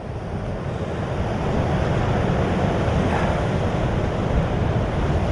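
Sea waves slap and wash against the hull of a deep V boat running nose-on into rough water, a steady loud rush of surf and wind noise with no talk.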